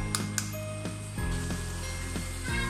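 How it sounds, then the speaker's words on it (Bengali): Fish liver frying in oil, a soft steady sizzle under a low background hum, with a few light clinks. "এটাকে আমি ভাজবো আমরা মাছ যেভাবে ভাজি মাছটাকে ঠিক ওইভাবেই আমি ভাজবো"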